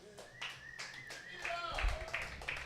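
A comedy club audience claps for a newcomer at a weekly comedy festival, scattered hand claps and taps under someone talking loudly over them, growing a little fuller toward the end.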